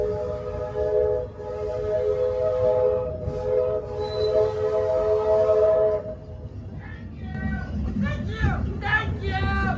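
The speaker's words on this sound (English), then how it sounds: "Almost as much as Stitch loves to blow the whistle." A train whistle at Magic Kingdom sounds in a long steady blast with layered tones, then fades as voices and crowd chatter take over toward the end.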